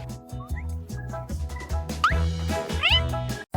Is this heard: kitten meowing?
yes